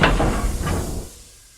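Gordon, a steam engine, hisses mournfully as he backs down on his train, a broad breathy hiss that is strongest at the start and fades away over about a second and a half.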